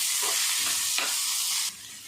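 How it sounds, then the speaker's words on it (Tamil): Mustard seeds and curry leaves sizzle and crackle steadily in hot oil in a pan, a bright, hissing fry heard up close that briefly drops in intensity near the end. "கடுகு நல்லா பொரியட்டும் கருவேப்பிலை போட்டோன்னு எல்லாம் நல்லா பொரிஞ்சிச்சு"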